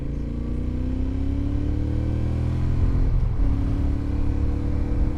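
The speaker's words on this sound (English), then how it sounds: "Why does it sound so heavier, so much heavier, the engine?" A heavy motorcycle engine idles with a deep, steady rumble, rising slightly in intensity partway through before settling back to a constant throb.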